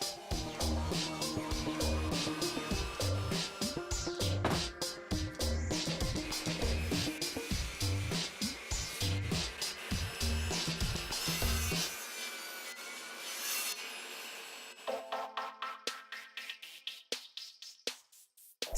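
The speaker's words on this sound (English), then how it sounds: "so cutting up a thick piece of maple." A thick piece of maple wood being cut for a mini workbench vise: steady rhythmic back-and-forth saw strokes, close and loud, easing off near the end into a few scattered scrapes and knocks.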